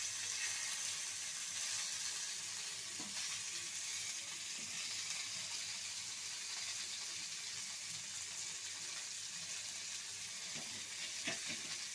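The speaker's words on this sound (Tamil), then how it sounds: "இந்த மாதிரி மசாலா சேர்த்து மீன் வறுத்து பாருங்க" Kizhanga meen fish coated in masala fries in a pan in a village kitchen, giving a continuous, even hiss of sizzling oil with faint pops and no voices.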